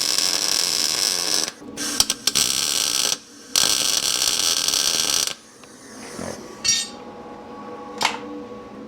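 Tack welds go onto a bar on a Chevy COE frame: two long loud crackling welding bursts broken by brief pauses, followed by quieter clanks and shop noise, with no voices.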